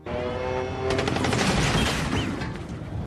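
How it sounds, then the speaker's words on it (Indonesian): Gunfire exchange in a war film scene of an attack on an American bomber crew, a dense burst of rapid shots and booms rising after a tonal opening, loud and sustained to the end. "Adu tembak pun terjadi, yang membuat beberapa teman Louis terluka cukup parah."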